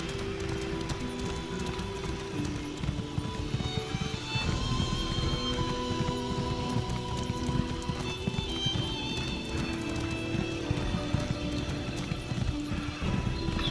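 Steady rhythmic clip-clop of horse hooves trotting in Elder Scrolls Online, continuous and fairly close, with a brief whinny and faint background game ambience.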